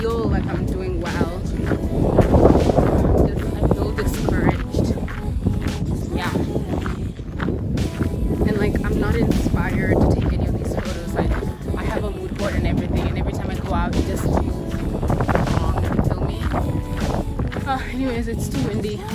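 Gusts of wind buffet the microphone with rough, fluttering rumbles while someone talks over the noise outdoors.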